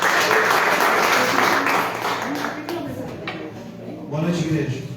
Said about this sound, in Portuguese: Aplauda o nosso Deus.